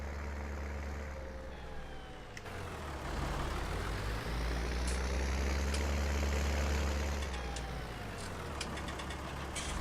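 A Deutz-Fahr DX4 tractor engine in Farming Simulator 19 runs steadily with a low rumble that swells and revs midway, plus a few faint clicks.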